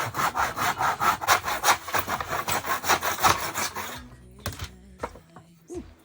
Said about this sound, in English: So I'm going to use my miter saw.